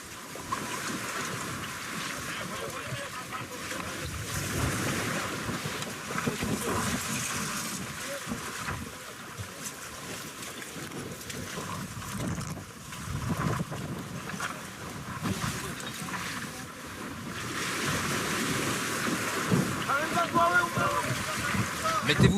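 A boat out on open water off the Comoros with steady wind and wave noise throughout, a broad constant rush with people talking now and then.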